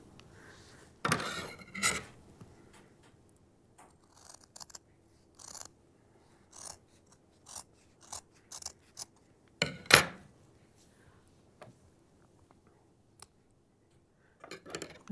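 Scissors snip through faux fur from a craft store while a gnome beard is trimmed at a quiet craft table, giving scattered short crisp cuts, some single and some in quick pairs, with pauses between them.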